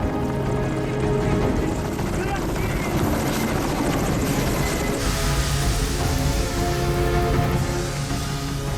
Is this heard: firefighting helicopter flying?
yes